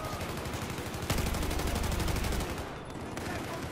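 Rapid automatic gunfire rattles in the Battlefield 4 multiplayer video game, with dense bursts of shots and a sharper blast midway, continuing steadily without speech.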